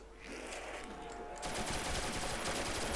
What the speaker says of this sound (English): Let's use my Thompson.